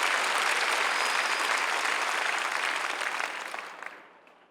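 A large crowd applauds at an outdoor 2016 peace-unification prayer rally on a plaza in Seoul. Dense, steady clapping fills the space, then fades away toward the end.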